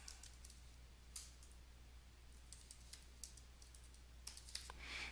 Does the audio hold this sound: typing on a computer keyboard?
yes